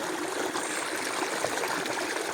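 A river on a farm gives a steady, close rush of flowing water, an even broadband wash with no pauses.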